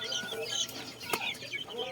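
Soft, scattered clucking from several full-grown breeder chickens close by, with faint rustling between the calls.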